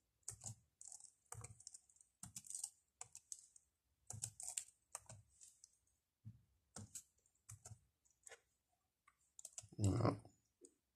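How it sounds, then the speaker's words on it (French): Computer keyboard typing as a password is re-entered, quick bursts of close key clicks separated by short pauses, ending in a louder thump. "Je vais retaper encore."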